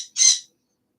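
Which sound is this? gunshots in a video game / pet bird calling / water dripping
pet bird calling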